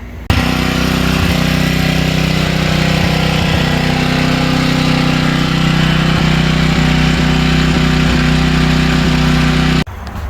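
A Craftsman 5600 generator with a Briggs & Stratton engine and an aftermarket carburetor runs loud and steady close by, a constant droning hum with faint periodic ticks, starting abruptly and cutting off near the end.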